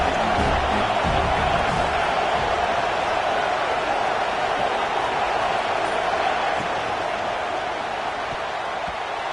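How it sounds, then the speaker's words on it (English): A home crowd roars continuously at a USC football game, a dense, loud wash of cheering and shouting that holds steady and eases slightly toward the end. "how nice is it to have the home crowd going absolutely bananas?"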